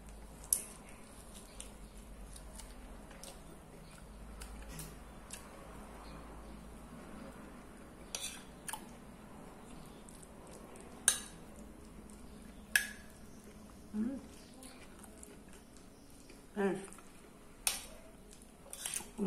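Cutlery scrapes and clinks on a plate while Brazilian food is mixed, quiet and close, with sharp taps spread irregularly over a soft background.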